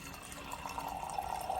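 Water runs through the supply line of a newly installed refrigerator ice maker, a faint, continuous trickling and filling sound that flows steadily and stays quiet throughout.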